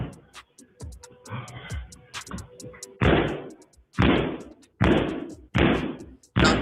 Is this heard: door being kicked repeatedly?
yes